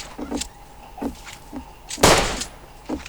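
In the video game Rust, an explosive charge goes off as one loud, sharp blast about two-thirds of the way in, preceded by several smaller clicking thuds.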